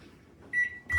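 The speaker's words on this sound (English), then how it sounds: "And then I'm gonna put it in the microwave for" A kitchen microwave oven sounds two sharp electronic beeps in quick succession after a quiet low hum, loud and close, with no voices.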